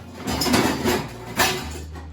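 A lid is set onto a non-stick pan of pumpkin tortelloni in oil, giving two or three close metallic clinks and knocks over a low, quiet cooking hum.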